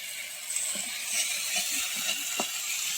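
Ginger paste with garlic sizzles steadily in hot oil for a fish-head muri ghonto, a continuous close hiss with faint scattered pops and small clicks, no voices.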